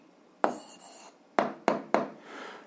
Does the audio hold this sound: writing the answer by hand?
yes